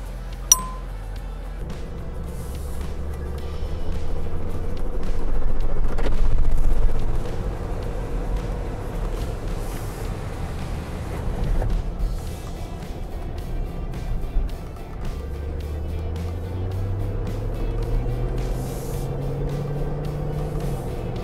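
A Range Rover L322 with the 4.4 TDV8 diesel, fitted with a new damper, drives along a road, heard from inside as a steady low engine and road drone with gear changes and a few clinks.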